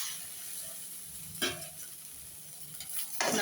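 Okra and chopped tomato being stirred and sautéed in a pan for a kara kuzhambu, with a steady soft sizzle, a couple of scraping stir strokes and a louder burst near the end, no talking.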